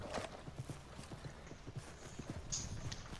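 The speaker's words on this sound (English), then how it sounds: "Oh, here comes that horse." Horse hooves clip-clop in Red Dead Redemption 2, a brisk steady run of close, crisp hoof strikes on hard ground with a faint whinny-like tone near the end.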